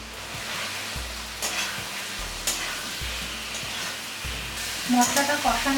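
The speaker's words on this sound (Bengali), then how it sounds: "সব কিছু দিয়ে মশলাটা কষিয়ে নিতে হবে" Spice paste of ground spices, green chilli paste and salt is stir-fried in a pan, a continuous sizzle broken by repeated scraping strokes of a spatula, close and fairly loud.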